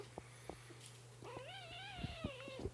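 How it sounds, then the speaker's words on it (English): A kitten lets out a long, wavering meow close by, following a few soft clicks and faint earlier squeaks over a steady low background hum. "He does make a lot of funny meows, yes."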